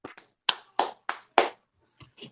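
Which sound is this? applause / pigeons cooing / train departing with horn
applause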